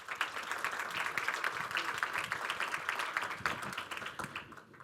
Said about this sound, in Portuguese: chama ao palco o empreendedor Manuel Lemos, para quem eu peço o vosso aplauso.